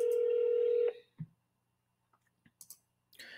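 A telephone ring tone sounds on an outgoing call, a single steady electronic tone that cuts off after about a second. Scattered close clicks and taps from a computer keyboard follow in the quiet that comes after.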